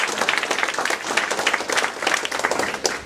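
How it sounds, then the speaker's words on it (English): An audience at a senior center's 20th anniversary event applauds for Miss Nancy, a dense, energetic burst of many hands clapping that stays loud and continuous throughout. "Would you please give Miss Nancy a round of applause?"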